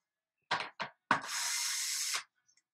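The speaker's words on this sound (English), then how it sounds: "unbolt our mold." Bolts being undone on a foam mold used to make a mannequin: two short ratcheting bursts, then a third that runs into about a second of continuous grinding and whirring, close and clear, with no talking.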